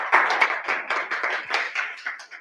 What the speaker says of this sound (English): Let's give Rachel a quick round of applause.